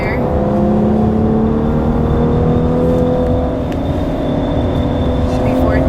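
A 2014 Cadillac CTS on the Mosport racetrack, braking and downshifting to third, a loud steady in-car engine drone whose pitch slides as revs change, with a voice speaking over it.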